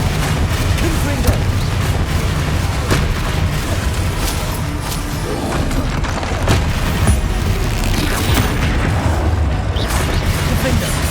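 Spell-combat explosions from the video game Hogwarts Legacy, with the Confringo fire spell, burst repeatedly in dense, loud booms over a continuous noisy battle backdrop.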